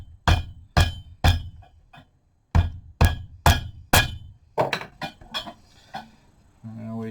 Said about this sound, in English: Smack him with a hammer.